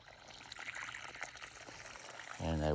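Water pours and splashes onto soil mounds around tomato plants in a Kentucky garden, a steady trickling wash that swells louder near the end.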